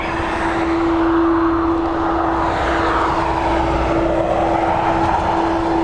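An Aer Lingus airliner on flight EIN 107 to JFK roars loudly and steadily at Dublin Airport, a constant jet engine rumble with a sustained tonal whine running throughout.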